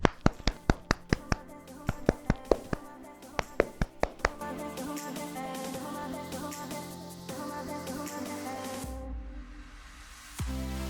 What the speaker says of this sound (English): something that I like to do is clap my hair